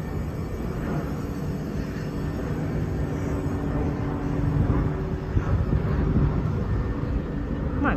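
An airplane passes over Battersea Park station in London, a continuous broad roar that swells slightly toward the end, steady and fairly loud over the open-air station background.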